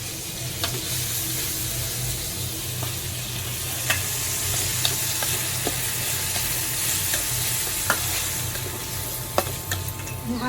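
Chopped onions fry in oil in a pan, giving a steady sizzle under repeated scraping taps as a utensil stirs them, with no talking.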